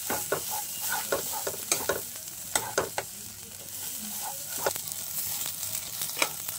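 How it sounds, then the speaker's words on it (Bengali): Ground ghetkol leaf paste stirred in a frying pan, with repeated sharp scrapes and taps of the spatula over a soft sizzle, no speech. "এইবার আমি ঘেটকুলটাকে একটু কড়াতে আবার ভালো করে নেড়ে নেব"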